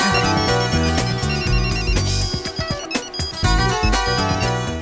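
Mobile phone ringtone playing loudly in a noisy place, a continuous musical melody with layered tones and beats, no voices over it.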